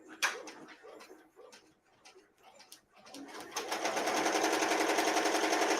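A home embroidery machine stitching fabric starts up after a few scattered clicks and taps, then settles into a steady, rapid mechanical needle rhythm that runs close and continuous to the end.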